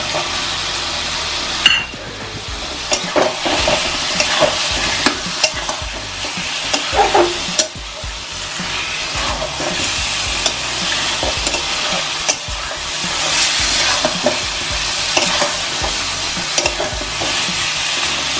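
Eggs frying and being stirred in a pan for a home-style Bengali egg curry, a steady sizzle with frequent scraping and clinking stir strokes, close and fairly loud, no talking.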